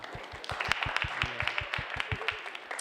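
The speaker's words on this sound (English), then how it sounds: "Give her a hand of applause." Audience applause for a speaker at an architecture publishing talk, a short burst of scattered clapping with irregular taps, moderately close, without speech over it.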